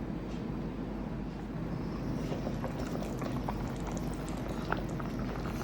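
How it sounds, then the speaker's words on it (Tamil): Mohinga (Burmese atho) banana stem soup bubbles under a lid in a covered pot, making a steady, close, low simmering burble with small popping ticks scattered throughout. "இப்போ இதை மூடி போட்டு இன்னொரு 5 மினிட்ஸ் நம்ம பாயில் பண்ணுவோம்"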